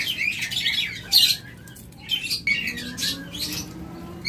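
A breeding pair of caged birds chirps and squawks in short, bright bursts with pauses between calls, close by, over a low steady background hum.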